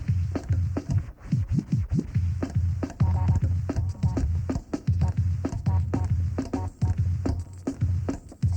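Turntable scratching in a broken chase pattern, quick choppy bursts of scratched record sound in a rapid, uneven rhythm that goes on without a break; close and fairly loud, with no talk.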